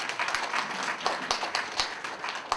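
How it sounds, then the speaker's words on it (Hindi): An audience claps for Dr. Satish Gupta during a Rajyoga talk, with a light, scattered patter of hands and a few sharper individual claps throughout. "ताली बजाओ डॉक्टर सतीश गुप्ता के लिए।"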